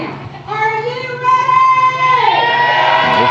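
A wrestling event crowd cheers and whoops with sustained, loud energy, high shouts rising over a dense roar of voices.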